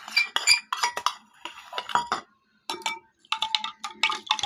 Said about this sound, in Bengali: হালকা করে আমি চিনি দিয়ে দিচ্ছি। স্বাদ মতো লবণ দিয়ে দিচ্ছি।